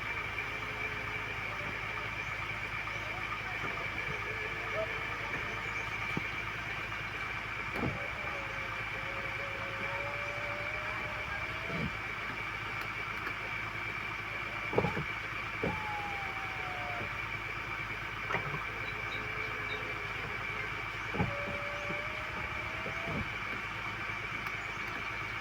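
A 2021 Ford Ranger Raptor idles on its first start of the day, with a shaking fault noted. A steady low engine hum runs throughout, broken by occasional clicks and faint whining tones.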